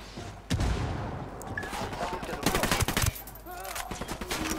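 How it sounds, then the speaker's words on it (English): A grenade explosion and rapid gunfire sound in the video game Ghost Recon Wildlands: a sharp boom near the start, then dense bursts of shots throughout, with a player talking over them. "there goes the grenade"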